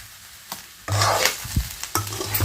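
Spicy Andhra-style chicken fry with curry leaves is stirred in a pan, with sharp scraping strokes over a rising sizzle that jumps louder partway through and keeps crackling close by.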